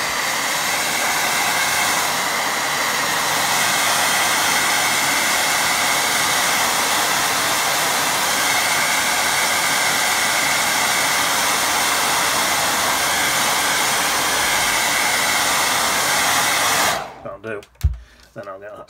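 A hair dryer blows steadily and loudly at close range to dry a watercolour painting of distant sheep, a constant rushing roar that cuts off abruptly near the end, followed by a few faint handling knocks.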